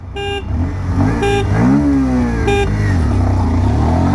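A 125cc motorcycle pulls away in first gear, its engine droning loud and steady throughout while three sharp horn honks cut in at roughly even spacing early, midway and later.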